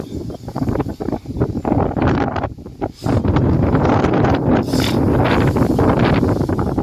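Strong storm wind from a small cyclone roars and buffets the microphone continuously, loud and gusty throughout, with a brief lull around the middle before it surges again.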